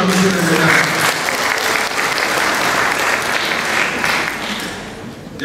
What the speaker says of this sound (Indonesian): Tepuk tangan dulu Pak Menteri